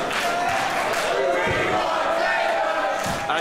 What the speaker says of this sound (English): You can hear they are asking for tables.